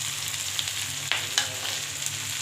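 Bitter gourd and potato fry in fish oil with a steady, close sizzle, broken by a few sharp scrapes and taps as a spatula stirs them.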